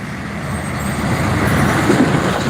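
Large trucks like trailers passing on a road in Tagkawayan, Quezon, a loud low rumble of heavy engines and tires that swells gradually and stays steady as they go by.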